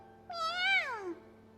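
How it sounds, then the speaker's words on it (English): A single clear video-game kitten meow, rising then sliding down in pitch, short and close, with a faint steady hum underneath. "Meanwhile, the kitten meows at us like he's cheering us on."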